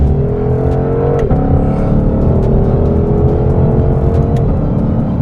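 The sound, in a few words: Shelby Mustang GT500 car engine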